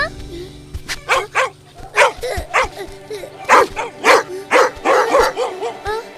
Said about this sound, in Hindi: अरे ये कुत्ते क्यों भौंक रहे हैं?